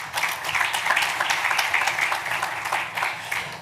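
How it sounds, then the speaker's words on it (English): A crowd at a research institute launch event applauds for a former institute director, with steady, dense clapping that stays fairly loud and fluctuates slightly throughout, with no talking over it. "He also deserves one good round of applause."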